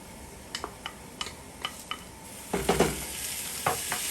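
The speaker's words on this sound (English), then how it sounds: "You want to mix this and make sure that the green seasoning is well distributed within the rice." Shrimp fried rice with green seasoning being stir-fried in a pan, with scattered sizzles and scrapes of the utensil through loose rice, growing busier and louder toward the end, with no talking.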